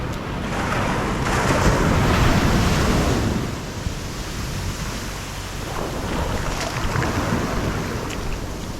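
Ocean waves wash onto a private resort beach in a steady, enveloping surf roar that swells loudest early on, then settles into a softer continuous wash with no voices.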